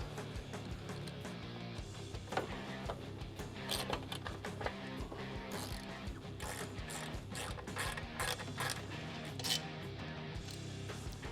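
A ratchet clicks rapidly and repeatedly, close up, while loosening the clutch cable on a Harley Softail, steady mechanical clatter throughout with no talk.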